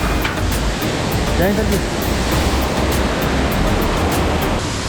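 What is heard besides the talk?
strong waterfall on mountain trek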